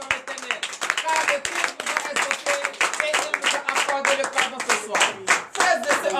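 Church congregation applauding during a night deliverance service: dense, loud rhythmic clapping from many hands, close and continuous, with voices mixed in among the claps.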